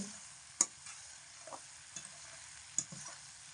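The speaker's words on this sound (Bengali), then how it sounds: "লবণ আর হলুদ দিয়ে ভালো করে নাড়াচাড়া করে এর মধ্যে খুব ভালো করে মিশিয়ে নেব" Bean mixture with salt and turmeric being stirred in a pan over medium heat, for a Bengali bean-leaf paturi: a few faint scraping strokes and clinks over a low, quiet sizzle, with no talking.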